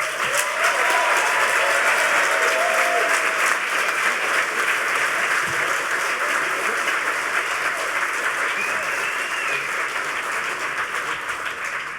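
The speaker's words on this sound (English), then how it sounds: "please everybody give a huge round of applause and a welcome for Emmanuel and the social engineering panel" A conference audience at The Next HOPE 2010 gives a long, loud round of applause for a social engineering panel, dense clapping sustained for about twelve seconds and tapering slightly at the end.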